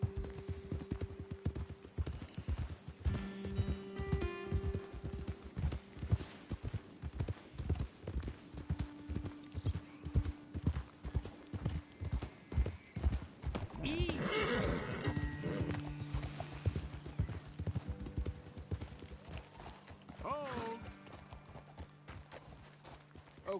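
Horses walking in the video game Red Dead Redemption 2, steady clip-clop of hooves throughout with a couple of whinnies and snorts, close and continuous, with talk over it at times.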